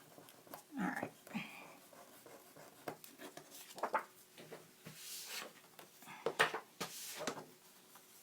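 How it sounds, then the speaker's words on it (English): A rubber eraser scrubs pencil marks off a paper card in short, scratchy rubbing strokes, close up and fairly soft, coming in uneven bursts with small pauses between. "Now I'm going to erase my marks so they aren't left there on my page."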